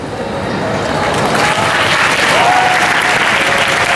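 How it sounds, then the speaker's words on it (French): An audience at a Paris Manga convention panel with actor Tyler Hoechlin bursts into dense, steady applause that holds strong throughout, with a few voices faintly mixed into the clapping. "applaudissez à chaque question"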